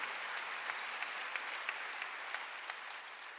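A church congregation claps together during a Wednesday worship service, a dense, fairly faint wash of hand claps with regular stronger beats, continuing evenly with no speech over it.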